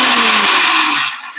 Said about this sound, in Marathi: आता हे आपण अशा प्रकारे दडदडीत वाटून घेतलंय मिरचीचं आणि लसणाचं